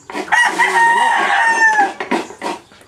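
A rooster crows loudly and close by with a long, drawn-out cock-a-doodle-doo, followed by a few short clucks.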